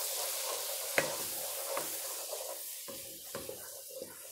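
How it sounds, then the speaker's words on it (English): A wooden spoon stirs cornstarch around a pan in faint, scattered scrapes and taps over a soft background hiss, with no voices. "we're just going to stir that around with a wooden spoon"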